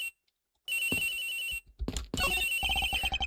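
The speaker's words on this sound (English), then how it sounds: "The ringing is coming from somewhere around here." Phone ringing in the Ace Attorney Investigations video game, a bright electronic telephone bell starting after a brief silence and repeating in bursts, with game sound effects mixed in and no talk.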